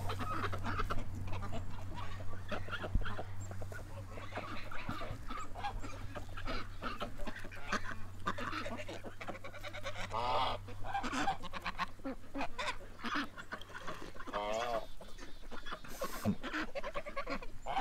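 Ducks quacking and honking in a busy flock close by, with dense overlapping calls throughout over a steady low background hum.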